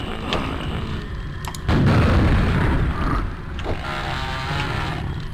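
Video game explosions, a heavy booming blast followed by a rumbling, crackling tail over continuous low game ambience, with smaller pops before and after.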